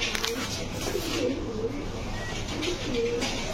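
Pigeons offered for sale, including racers, coo at a market in low, repeated throaty calls under general crowd murmur and some faint talk.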